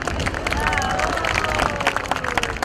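Children's audience applauding and cheering at a Día de las infancias show in the Polideportivo Islas Malvinas, a busy crowd of claps and voices with a melodic tone running through it.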